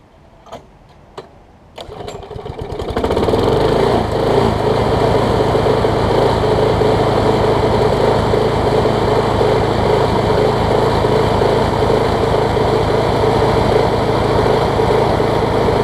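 A small Troy-Bilt push mower engine sputters with a few pulls, then catches and roars into a loud, steady running drone that continues to the end.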